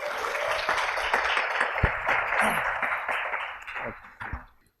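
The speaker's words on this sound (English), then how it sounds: "A huge round of applause for him" Audience applause at a CEO Connect alumni event, with dense, steady clapping from a crowd that holds for several seconds and then fades out at the end.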